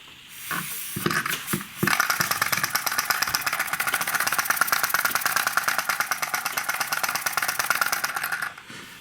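A small model steam engine driven by breath runs close by in a fast, even chuffing rattle that holds steady for several seconds after a few puffs to start it.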